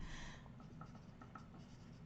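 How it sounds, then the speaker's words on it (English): A pencil scratches on paper in quiet, faint short strokes over a low steady background hum, with no talk. "I can hear my pencil."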